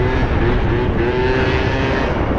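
A scooter engine revs steadily and loudly through a wheelie, holding a continuous buzzing drone close by with a slight rise in pitch and no voices.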